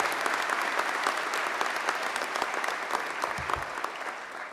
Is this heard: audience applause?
yes